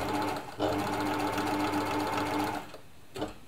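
An Elna Air Electronic TSP sewing machine stitches a buttonhole, a steady rapid mechanical whirr running continuously for several seconds, then a brief pause and a short restart, close and clear.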